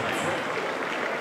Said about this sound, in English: Please keep clapping as she makes her way to the cake.